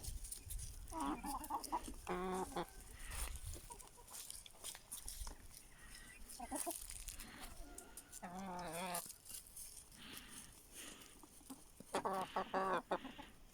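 Chickens cluck in short bursts across the clip, with occasional louder calls over a faint background.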